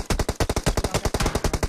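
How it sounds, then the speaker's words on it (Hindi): Rapid automatic gunfire in the video game PUBG, a dense burst of roughly a dozen sharp shots in quick rhythm, loud and close. "कहाँ कहाँ से फायर आ रहे हैं कुछ पता नहीं लग रहा"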